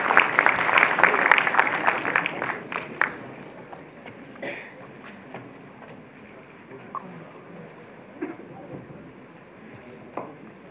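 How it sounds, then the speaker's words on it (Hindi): An audience at a journalists' award ceremony at Dr Ambedkar International Centre, New Delhi, applauds for Hansraj Ahir: a burst of dense clapping that fades after a few seconds into scattered claps and murmur. "आप भी जोरदार तालियों के साथ अभिनंदन करें।"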